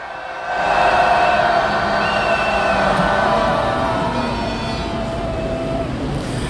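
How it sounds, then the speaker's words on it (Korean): Marchers at a street protest rally in Yongsan, Seoul raise a loud, sustained collective roar, a broad wash of many voices swelling in after a quiet start and holding steady with a faint drone underneath. "자, 함성 함께 한번 더 해보겠습니다"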